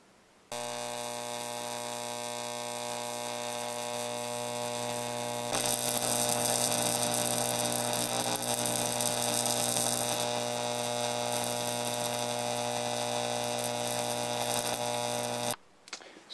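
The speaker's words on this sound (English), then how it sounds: "when I turn this on, we should get to" Neon sign transformer driving a steady buzzing, humming arc between tungsten electrodes tipped with boric acid, loud and continuous for about fifteen seconds. The arc grows harsher and brighter partway through, then cuts off abruptly.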